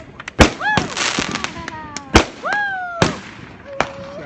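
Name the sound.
fireworks exploding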